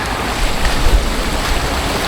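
River water flowing and rushing, a loud, steady broadband wash close by with a few low surges and some wind rumble throughout, no voices.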